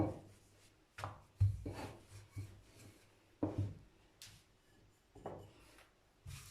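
Soft dough for spinach gözleme being rolled out by hand on a board, with soft rubbing sweeps and occasional light wooden knocks recurring every second or so, close and quiet.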